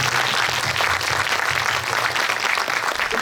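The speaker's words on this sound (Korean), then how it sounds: "박수 한번." Loud, sustained clapping from a cinema audience at a special guest-visit screening in Lotte Cinema World Tower, dense and continuous throughout with no voices over it.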